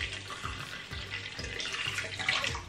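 Lukewarm water poured from a small measure into a mixing bowl of yeast for homemade pretzel dough, a steady close splashing trickle lasting a few seconds with no talk over it.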